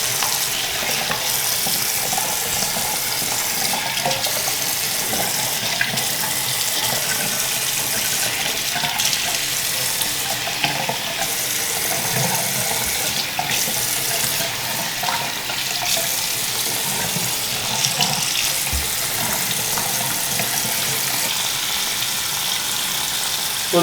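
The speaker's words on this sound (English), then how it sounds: "we're just going to get some warm water, and we're just going to kind of rinse her off here" Warm tap water runs steadily for a pet snake's rinse, a constant bright hissing splash with small shifts as the flow hits the animal, close and unbroken throughout.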